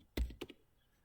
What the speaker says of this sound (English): by just typing your numbers in here.